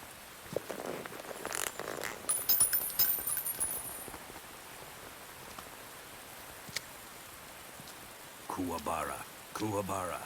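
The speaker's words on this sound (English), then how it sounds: "You can entertain me until the rain stops." Steady rain falls through a scene in the video game Metal Gear Solid 3, a soft continuous patter with faint clicks and rustles, while voices speak briefly near the end.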